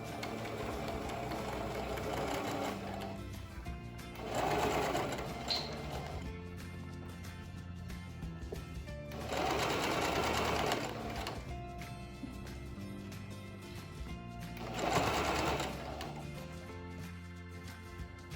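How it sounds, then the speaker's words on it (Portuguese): A sewing machine runs in three bursts while stitching a seam with backstitching at the ends on a teacher's bag lining, the motor whirring close by between quieter pauses, with no one talking. "nós vamos passar uma costura aqui, retrocesso nas pontas"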